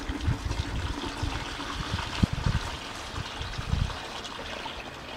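A watery mix of dirt and water pours through a strainer, giving a close, steady trickling splash with a few louder sloshing bursts, with no talk over it.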